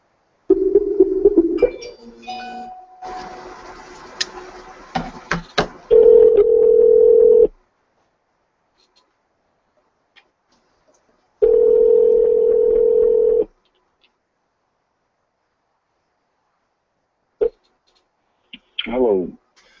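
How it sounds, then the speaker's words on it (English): A telephone dial tone and call tones come through a phone line while someone is being called, with steady tone bursts separated by silence and a few clicks. "So I'm going to go ahead and get him on the phone here,"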